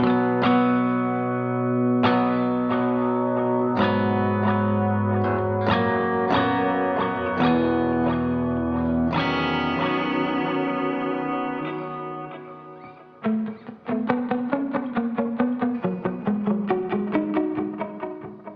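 Clean electric guitar notes ring out with rhythmic delay repeats trailing each pick, a dotted-eighth echo pattern cascading behind the playing, with amp room reverb from a Mercury X.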